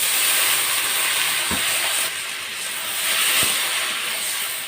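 Water hits a hot pan of cooking Malabar spinach greens with a steady broad hiss and sizzle, the steam holding close and even throughout, broken by two faint dull knocks.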